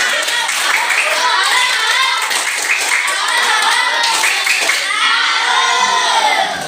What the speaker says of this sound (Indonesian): kita berikan dulu tepuk salut untuk teman-teman di depan. Tepuk tangan.